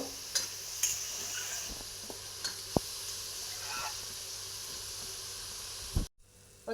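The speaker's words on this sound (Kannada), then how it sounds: "ಮಶ್ರೂಮ್ ಕೂಡ ಸ್ವಲ್ಪ ಆಯಿಲಲ್ಲಿ ಫ್ರೈ ಆಗಬೇಕು" Mushrooms and green peas fry in oil in a pan for mushroom pulao, giving a steady close hiss of sizzling with a few scattered stirring clicks. The sizzle cuts off abruptly near the end.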